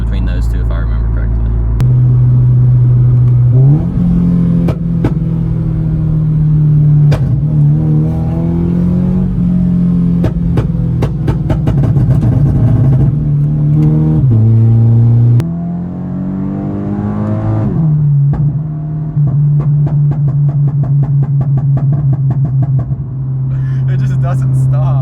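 A Scion FR-S with a flame-shooting exhaust revs and holds a droning engine note close by, its pitch climbing and dropping between throttle blips, with sharp crackling pops scattered through the sound.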